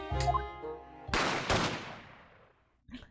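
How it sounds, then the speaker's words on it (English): Two loud video game gunshots fire in quick succession, each with a long, fading echoing tail, after a brief tonal sound; a short noise follows at the end. "I heard a couple of shots go off."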